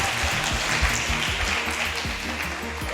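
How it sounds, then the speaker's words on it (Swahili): An audience applauds a Mr. Right contestant on a TV show, with steady, dense clapping that continues evenly throughout at moderate volume. "Pigeni makofi Mr."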